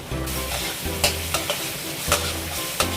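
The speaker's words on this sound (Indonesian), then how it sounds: "tuang kembali dan ditumis sampai wangi." A blended spice paste stir-fried in a pan for a green bean dish, an even close sizzle punctuated by several quick scraping strokes of a spatula.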